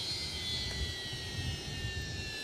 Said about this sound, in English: Okay, engine shut down.